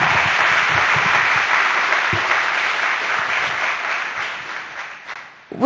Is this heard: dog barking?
no